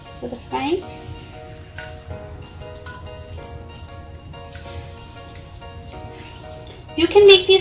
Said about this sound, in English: So when they look like they're hot fried, make sure they don't open up on you.